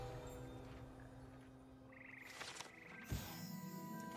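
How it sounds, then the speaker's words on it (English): Frogs of the Hogwarts frog choir croak in the video game Hogwarts Legacy, a steady chorus of low, throaty calls with brief louder bursts, close and alone without speech. "Here perched the slimy yet symphonic frogs that comprise the Hogwarts frog choir."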